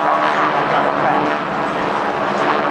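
GEICO Skytypers propeller aircraft roar overhead at the 2008 NAS Oceana airshow, a loud, steady engine drone that swells slightly and fills the short stretch.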